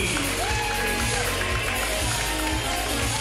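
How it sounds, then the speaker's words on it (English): An improv comedy audience at a live show applauds and cheers for a ticket winner, a steady loud wash of crowd noise with whoops and shouts running throughout. "Just a round of applause for Irene"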